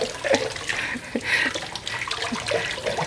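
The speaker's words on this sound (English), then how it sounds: "So add in the oranges with the carrots. Also, I'm just going to rinse them out a little bit." Running tap water splashes over oranges and carrots being rinsed in a kitchen, a steady, fairly close hiss that shifts in texture as the produce moves under the stream.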